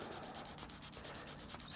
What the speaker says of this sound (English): scraping the terminals till they're clean